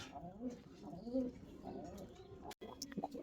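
Pigeons coo softly at a fancy pigeon farm, a few low murmuring calls rising and falling over a quiet background, with a brief click near the end.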